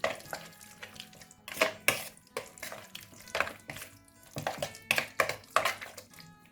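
Marinated chicken filling for a chicken pizza sandwich being mixed in a bowl: irregular clinks and scraping bursts of a utensil against the bowl, close up with no voices.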